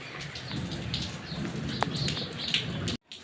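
Heavy monsoon downpour at a home in India, a dense close hiss of rain with scattered louder drops and faint bird calls, ending abruptly in silence.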